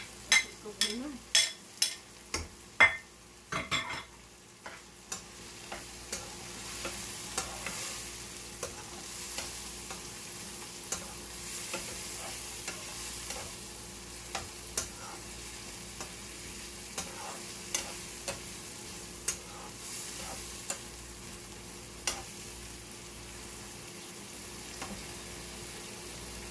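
Lentils dry-roasting in a pan after garlic and ginger were fried, for a Qabuli dish. A run of sharp spoon scrapes opens, then a steady close sizzle continues with occasional stirring clinks and scrapes.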